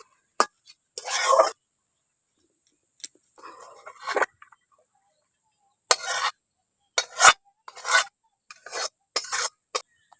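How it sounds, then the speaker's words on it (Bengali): Stirring boiled banana stem with potato in a pan, a run of short scraping and clinking strokes in separate bursts with quiet gaps between them, close and moderately loud, with no talking. "এবার ভালো করে একটু নাড়াতাড়া করে আমি এবার নামিয়ে নেবো"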